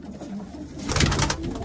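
Pigeons coo in a loft where parrots are also kept, a steady close murmur that swells into a louder, busier burst midway.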